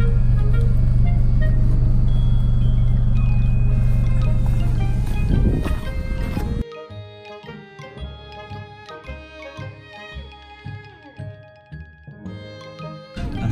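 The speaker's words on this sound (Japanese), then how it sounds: "ちょっと排気音の方を聞いていこうと思います" A Honda Civic hatchback's exhaust rumbles loudly and steadily for about six seconds during a drive, then drops away and tonal music takes over.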